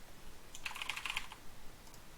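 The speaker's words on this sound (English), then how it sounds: "You can type in any email" A short, quick run of computer keyboard keystrokes clicks close by, roughly a dozen light taps in under a second against a quiet background.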